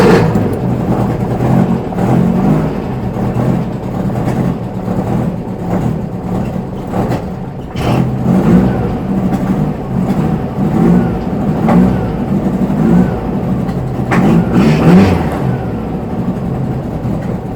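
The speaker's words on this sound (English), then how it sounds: "Start the vehicle." A car engine fitted with IDF carburetors, jets just dropped to size 55, runs and revs unevenly, its loud mid-pitched drone swelling in repeated throttle bursts throughout.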